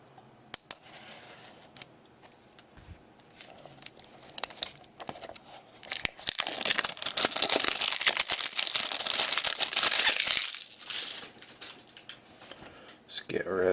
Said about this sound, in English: let's get the plastic wrapper off of this right now